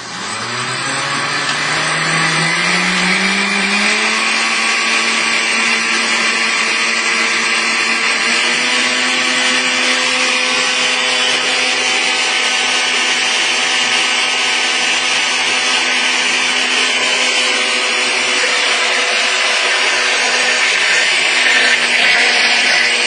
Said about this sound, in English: I'm going to start blending this slow, and it's going to work up, and you're going to see this thing get thick and creamy.